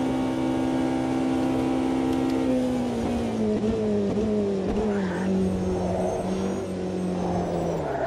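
Race cars in Automobilista 2, including a Cadillac, roar steadily at high revs, with engine pitch sliding and shifting as they accelerate and pass. The sound is continuous and fairly loud throughout.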